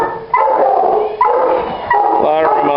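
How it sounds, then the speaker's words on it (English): A puppy barking and yipping outdoors near a fetch machine, heard as a few close, loud, whiny barks in quick succession. "As long as you hear him barking about every 10 seconds"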